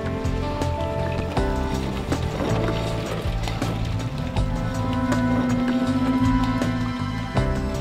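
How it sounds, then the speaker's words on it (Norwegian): Small boats cruise a Norwegian fjord in Romsdal on a summer day, a steady engine drone with water wash and splashing, heard continuously at moderate loudness amid a busy, layered background. "Hundrevis av småbåter kruser fjordene på fine sommerdager."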